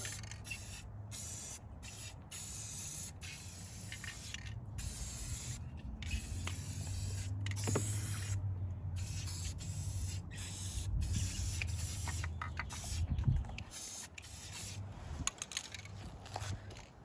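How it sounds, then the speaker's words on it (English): Aerosol spray paint hisses in repeated short bursts with brief pauses between, close by and fairly loud, with faint handling noises underneath. "Now that I've used some of the spray paint inside the canister"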